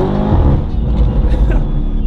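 A car pulls up at a red light with an energetic, loud engine rumble close by, steady and full through the whole moment, with no talking over it.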